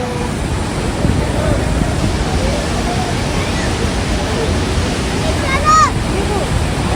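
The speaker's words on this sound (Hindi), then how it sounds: "और आपको दिखाते हैं सरस्वती नदी का उफान" The surging Saraswati river rushes past Mana village near the India-Tibet border in a loud, unbroken roar of churning water, with faint bird-like chirps and a possible faint voice riding above the steady torrent.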